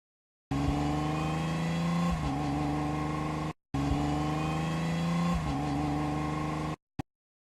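A cartoon car roars past twice, each a steady engine drone of about three seconds that shifts in pitch midway as it passes, loud and close, with a brief click afterward.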